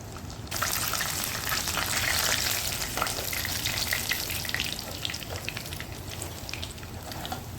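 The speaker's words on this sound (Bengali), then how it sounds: "আবার উল্টে পাল্টে লাল লাল করে ভেজে নেব।" Lote fish cutlets frying in hot oil, a steady dense sizzle running throughout with faint crackles, close and fairly loud with no voices.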